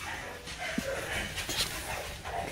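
American Bully puppies whimper and whine softly in short, intermittent bursts, low in level over a steady background hiss, with no talking.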